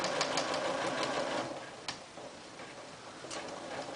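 A sewing machine back-stitches a set-in sleeve seam at close range, giving a steady rapid ticking hum with a few sharp clicks and a slight dip in loudness midway.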